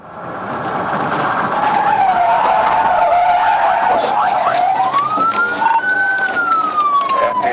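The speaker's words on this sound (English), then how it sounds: "executed a successful pit maneuver, causing the car to lose control, crash into a guardrail, and flip over" A fleeing car hit by a police pit maneuver skids loudly with a long screeching tyre squeal, while a police siren wails and rises in the background over several seconds.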